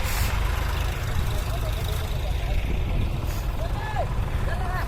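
Tractor engine straining to pull a trolley stuck in mud during bad weather, a heavy low rumble with steady revving throughout, close and loud, with voices talking over it.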